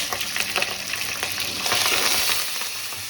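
Green chillies and curry leaves frying in a pan for a drumstick curry, a steady close crackling sizzle with stirring scrapes, no talking.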